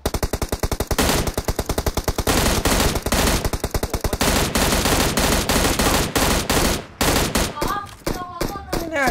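Sustained automatic gunfire in the battle-royale shooter PUBG Mobile, loud and close, with rapid regular bursts that pause briefly between volleys and a few scattered single shots toward the end.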